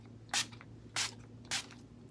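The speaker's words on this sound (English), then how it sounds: "I'll spray my face." Setting spray misted onto a face from a fine-mist pump sprayer, three short soft hissing spritzes spaced evenly, close and quiet against a faint background hum.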